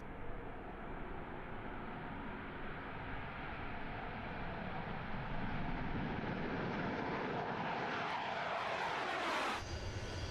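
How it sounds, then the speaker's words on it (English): A Su-25 Frogfoot jet at a Russian aviation center roars steadily and loudly throughout, with a pitch sweep suggesting it passes by near the end; no voices. "These Su-25 fighter jets, NATO codenamed Frogfoot at the Russian Aviation Center in Lipetsk, are identical to those used by the Ukrainian Air Force"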